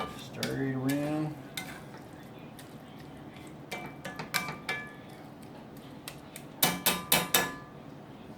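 Canned spinach heats in a pan as a utensil stirs it, with soft sizzling under a series of clanking, scraping strokes against the pan that come in bursts; a voice speaks briefly near the start.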